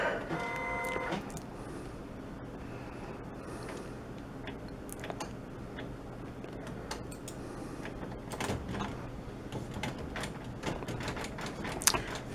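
A printer whirs and clicks steadily, with mechanical ticks and a brief tonal hum at the start, moderately loud and close, no talking.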